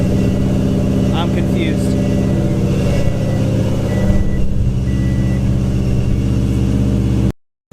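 Car with a forged engine held at around 2,000 RPM, a loud steady idle-like rumble with a brief rise in pitch, with people talking nearby.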